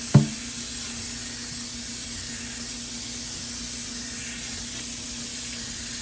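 Running water rinses a PEI 3D printer build plate, a steady broadband hiss of spray after a brief knock at the start, continuous and fairly close.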